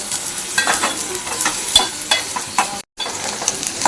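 Onion sizzles steadily in hot oil for a Maharashtrian pea curry, with a loud, continuous crackle and a few stirring scrapes, briefly cut off once, and no voices.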